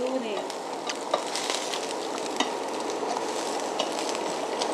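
Beef sizzles on an oak charcoal grill with a steady crackling hiss close by, dotted with small pops and ticks.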